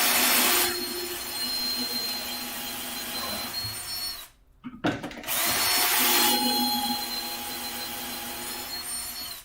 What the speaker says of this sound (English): drilling into the pine is a lot smoother than drilling into the plywood